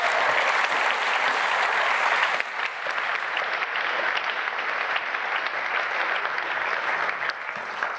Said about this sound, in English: please, a warm welcome and a warm applause